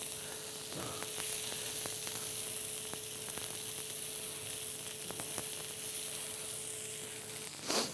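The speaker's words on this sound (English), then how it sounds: "Get all those spices cooked off. Get all of the sesames toasted." Spices and sesame seeds toasting in hot oil give a steady, moderate sizzle that runs unbroken, with a few faint clicks and a soft bump near the end.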